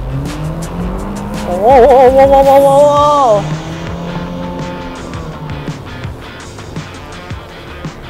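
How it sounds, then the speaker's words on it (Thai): A GWM hybrid car accelerates on a test track at the Xushui factory, its engine note climbing with a brief loud whining squeal in the middle, while someone talks over it throughout. "กว่าเครื่องยนต์มันจะตอบสนองเนี่ยมันใช้เวลานิดนึงมันค่อนข้างจะหน่วงนิดนึงนะคะ"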